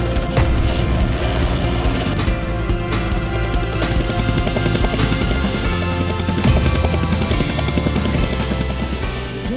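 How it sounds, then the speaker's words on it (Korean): A Korean-built Surion utility helicopter thunders loudly and continuously, its rotor producing a dense, pulsing roar with sharp recurring thumps, heard close and alone. "순수 국내 기술로 개발된 첫 국산 헬기 수리온의 모습이 공개됐습니다."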